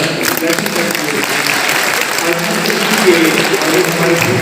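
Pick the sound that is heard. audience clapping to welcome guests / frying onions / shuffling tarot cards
audience clapping to welcome guests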